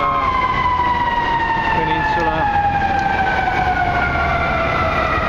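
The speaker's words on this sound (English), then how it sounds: "You can hear ambulances and everything right now." An ambulance siren glides steadily downward in pitch over constant city traffic noise on the Near North Side of downtown Chicago, with a voice briefly speaking.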